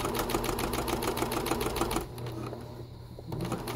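A sewing machine stitches fabric for a tote bag with a rapid mechanical clatter for about two seconds, then falls quieter before a faint resumption, heard close up without talk.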